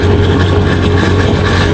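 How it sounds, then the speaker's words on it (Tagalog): A faulty motorcycle cruising at about 30 km/h gives off a loud, steady, rough engine drone with a metallic scraping noise, close and continuous. "Ang takbo natin 30 pa lang pero ang ingay na. Parang may bakal na nagkukuskusan"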